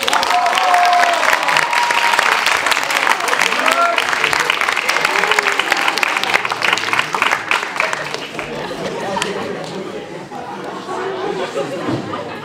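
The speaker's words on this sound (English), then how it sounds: "Let's give a huge round of applause for our surprise guest" An audience at a TEDx talk gives a guest speaker a loud round of applause. The dense clapping fills most of the clip, then thins out toward the end, with some crowd chatter underneath.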